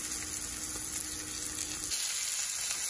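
Pompano and flounder fillets, the flounder coated, crisping in a hot pan with a steady broadband sizzle that thins out partway through, close and fairly loud, no voices.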